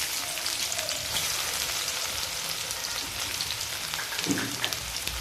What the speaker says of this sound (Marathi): आता तेलामध्ये मी बारीक चॉप केलेला लसूण टाकत आहे।